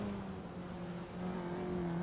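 Engine of a Lotus 49 race car in a virtual Formula Student racing video game, a steady, moderately loud revving drone with a faint shifting whine throughout the short stretch.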